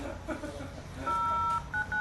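A phone keypad dialing a number: a few steady electronic DTMF tones, one long and several short, close and clear over faint room noise and low background voices.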